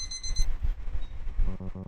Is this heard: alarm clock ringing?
yes